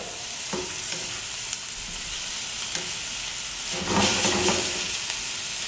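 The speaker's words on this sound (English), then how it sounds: "you don't want the garlic to burn at all. So you're going to keep stirring it" Garlic sizzles steadily in hot oil in a pan, with repeated scraping stirs of a utensil over a continuous close frying hiss, for garlic shrimp.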